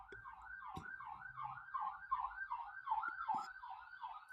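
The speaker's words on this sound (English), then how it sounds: "there's a siren going by" Emergency siren wailing in a steady repeating up-and-down sweep as it passes along a busy street, fairly loud throughout with a few brief knocks and thumps mixed in.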